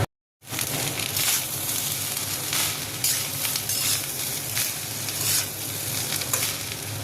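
Leftover rice with egg, chili flakes, ground pepper and salt fries in a pan while being stirred, giving a continuous loud sizzle and crackle that starts abruptly and carries on without a break.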